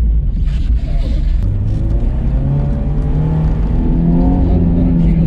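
Loud, close engine drone of a car being drifted, with the revs rising and falling and a continuous roar throughout, while a voice talks faintly underneath.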